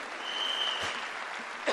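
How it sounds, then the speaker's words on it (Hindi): Audience applause at a BWW business seminar, a steady wash of clapping from a large crowd filling the whole moment, moderately loud with no voices standing out. "आप ताली बजा सकते हैं उन सब डायमंड्स एंड अबव की जो पूरे वर्ल्ड में BWW की सेवा कर रहे हैं।"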